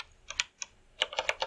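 Close computer keyboard typing in short bursts of rapid keystroke clicks separated by brief pauses, with no talking.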